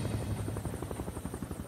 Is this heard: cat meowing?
no